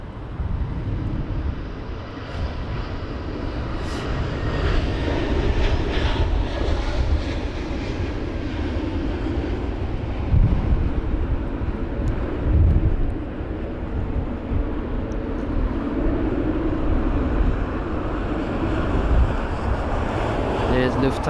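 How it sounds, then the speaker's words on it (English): A Lufthansa CityLine A320neo jet taking off from London Heathrow during Storm Kathleen: a sustained, fairly loud engine roar mixed with gusty wind noise and occasional thumps, under intermittent talk. "There's Lufthansa. Off it goes, the 320neo."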